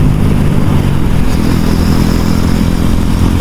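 Motorcycle engine running steadily on a road ride through India toward Nepal, a constant loud low rumble with wind and road noise throughout, no talking.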